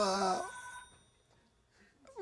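A telephone rings loudly during an interview with a New Orleans musician, a bright bell tone that fades out after about half a second, followed by quiet room sound.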